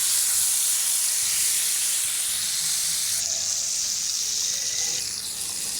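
Koi fish fry in hot oil in a pan, giving a loud, dense, continuous sizzle and hiss close by, steady throughout with a slight shift partway as the fish settle after turning.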